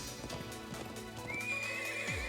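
A horse whinnies and its hooves clip-clop in a combat scene from the video game Trails of Cold Steel II, with the neigh rising over busy game music and effects.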